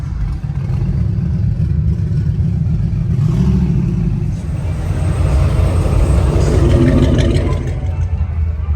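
A truck engine at a car show rumbles steadily with a deep, continuous drone that swells into a revving rise midway and stays loud to the end, with no voices.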